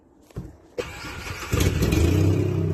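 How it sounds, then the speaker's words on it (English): A loud car engine starts with a couple of sharp cranking bursts, then catches and holds a steady, close rumble that grows louder toward the end. "Oh God, there's a loud car."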